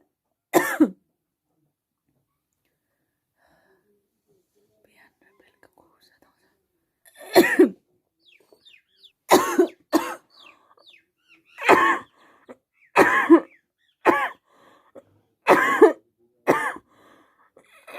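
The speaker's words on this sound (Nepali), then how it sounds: "अब फेरि सुरु भयो खोकीको समय।" A person sick with Covid coughs in a series of harsh, close coughing bursts, spaced a second or two apart after a long quiet stretch, heard alone without talk.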